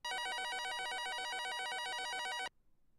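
A phone-style ringtone used as a video game interaction sound plays as a loud, rapid warbling electronic trill, steady for about two and a half seconds and then cutting off abruptly.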